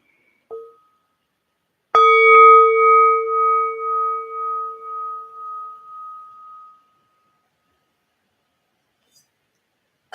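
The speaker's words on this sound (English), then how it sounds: "Noticing the sound of the bell, the sounds in the room." A short tap, then a single meditation bell strike rings out clearly and decays slowly with a pulsing shimmer over several seconds into silence.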